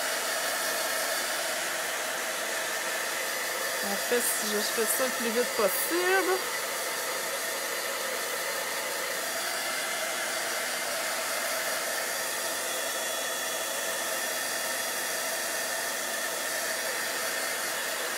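A drying tool blowing hot air steadily to dry paint and ink on a paper craft project, a loud constant whooshing roar throughout, with someone speaking briefly under it.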